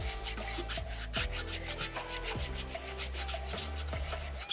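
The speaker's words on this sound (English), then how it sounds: "scrubbing into that rock." Sandpaper scrubbing steadily back and forth on a small soapstone butterfly carving, a continuous close rasping rub with repeated strokes and no talking.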